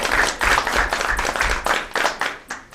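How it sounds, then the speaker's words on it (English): Audience applause at a school board meeting, a room of people clapping with rhythmic pulsing bursts, fairly loud and close, with no talking over it. "I hope that you would join me in giving them a round of applause this evening."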